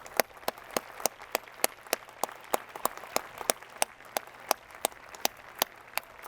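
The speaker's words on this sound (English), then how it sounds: "please give yourselves and one another a round of applause" Sparse, evenly spaced hand claps ring out at a graduate degree commencement ceremony, a slow regular rhythm of crisp individual claps over a faint room hum, with no talking.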